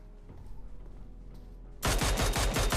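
Gunfire in the mobile battle-royale game PUBG Mobile bursts out suddenly after quiet game ambience, a loud rapid string of automatic shots.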